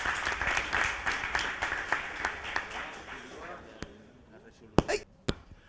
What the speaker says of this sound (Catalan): un aplaudiment pel Joan.